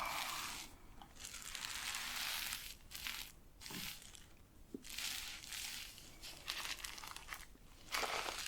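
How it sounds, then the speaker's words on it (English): Crinkly paper being handled beside a folded towel, close and crisp, with bursts of rustling and crackling separated by brief quiet pauses, heard alone without talk. "What a beautiful crinkly paper"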